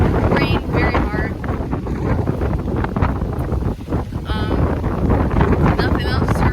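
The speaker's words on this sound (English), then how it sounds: "It's very windy." Strong hurricane wind from Hurricane Ian roars steadily and loudly across the microphone at Animal Kingdom, with gusting buffets throughout and hard rain starting to fall.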